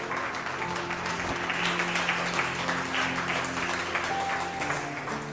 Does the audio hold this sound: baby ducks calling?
no